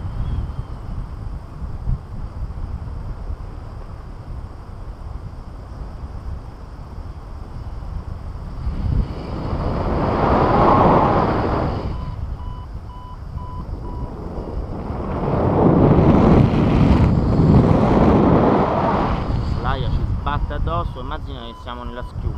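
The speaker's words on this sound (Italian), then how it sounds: "adesso il vento è talmente forte che le termiche le scioglie" Strong wind rushing over an open-air spot where thermals rise, a steady broadband roar buffeting the microphone that swells into louder gusts twice, with people talking throughout.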